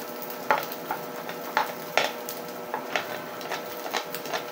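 Onion sautéing in oil in a pan for chicken caldereta, a soft steady sizzle broken by periodic scraping stir strokes, close and fairly quiet with no talking.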